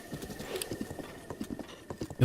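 Horse hooves clip-clop at a steady trot along a road in Zelda: Breath of the Wild, a close, even rhythm of soft hoof strikes with a brief snort or whinny near the end.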